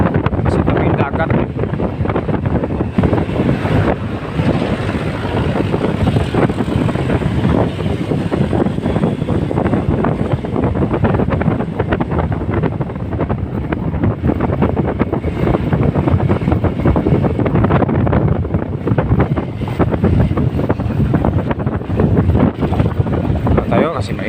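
Strong, steady wind buffets the microphone while riding a motorcycle along a seaside road, a loud continuous roar and rumble filling the whole stretch with no break.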